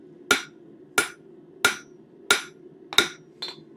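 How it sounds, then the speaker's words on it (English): Hammer blows on the corners of a metal bird feeder hanger: five sharp, evenly spaced strikes about two-thirds of a second apart, then a lighter sixth tap, close by with no talking. "by hammering back on the corners"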